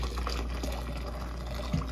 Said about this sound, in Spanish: Le voy a poner el agua, está bien caliente.